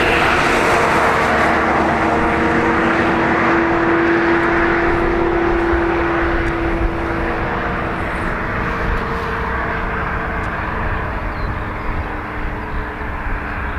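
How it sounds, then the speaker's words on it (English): Eurowings jet flying for Lufthansa, departing Dublin Airport for Munich: a loud, steady engine roar with a sustained whining tone in the middle, easing slightly toward the end, and no one speaking. "So Eurowings is operating for Lufthansa today. It's LH2517 off to Munich."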